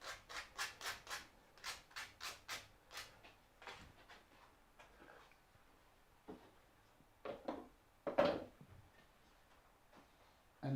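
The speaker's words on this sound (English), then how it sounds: "A little bit of sanding." A run of rhythmic rubbing strokes, sandpaper scraping back and forth on a small wooden trinket box part, close by, then a few scattered scuffs and a louder handling noise.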